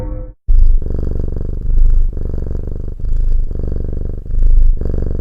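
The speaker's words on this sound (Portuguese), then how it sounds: "Por que os gatos ronronam?" A loud, close cat purr rumbles in steady rhythmic pulses, each breath cycle swelling and easing, after a brief silent gap at the start.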